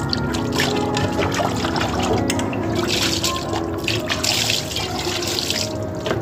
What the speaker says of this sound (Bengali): অল্প অল্প জল দিয়েও ধুয়ে নিতে হবে